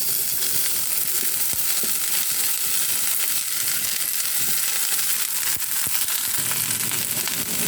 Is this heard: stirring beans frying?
yes